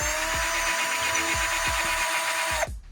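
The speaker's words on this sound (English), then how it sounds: "So we're gonna go ahead and drill this hole first." A power drill bores a guide hole through wood during an RV antenna install, a loud steady whine with rhythmic low thumps that cuts off abruptly near the end.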